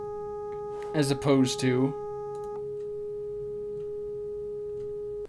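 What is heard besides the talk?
test tone with clipping distortion, third harmonic added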